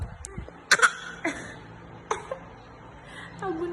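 A baby imitates a fake cough, making a few short, sharp coughing and throat-clearing bursts spaced over several seconds, fairly close, with faint voices in the background.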